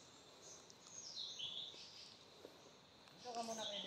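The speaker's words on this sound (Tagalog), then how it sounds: "Ibon yan." Faint bird chirps sound in a GTA RP game world, a few high tweets early on and again near the end over quiet ambient background.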